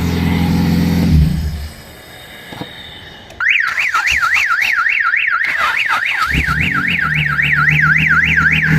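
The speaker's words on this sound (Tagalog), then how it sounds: "Ba't nag-a-alarm siya kahit may susi" A Honda Civic EG hatchback engine revs and idles, then a loud car alarm starts, its pitch sweeping up and down in a steady repeating wail that continues over the engine noise.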